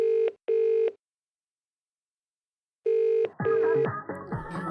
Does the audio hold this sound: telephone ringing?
yes